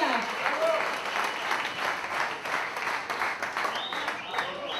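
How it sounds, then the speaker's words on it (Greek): A crowd applauds to welcome a player, sustained clapping from many hands filling the space while an announcer's voice carries over it. "Ένα μεγάλο χειροκρότημα της φιλοξενίας."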